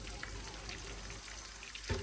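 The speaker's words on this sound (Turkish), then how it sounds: "Şöyle köftelerimizi kızartıyoruz." Meatballs frying in a pan at a home cookout, a faint, steady sizzle with soft crackles, brief thuds near the end.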